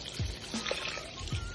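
Stock pours into a pot of rice in a kitchen, a soft, close liquid trickle and splash lasting a moment against a faint background hiss, with no talk.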